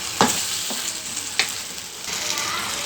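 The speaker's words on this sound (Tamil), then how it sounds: "இந்த மாதிரி நல்லா மசிச்சு விட்டுக்கோங்க" Half-cooked tomato mixture for tomato thokku being mashed and stirred in a pan, with a steady sizzle under a few soft scraping thumps of the spoon, close by.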